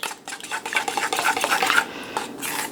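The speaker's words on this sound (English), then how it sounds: "I'm going to give this a really good mix" A brisket injection marinade is whisked briskly in a bowl, producing a dense run of rapid liquid stirring and metal-on-bowl scraping, close and fairly loud, easing off near the end.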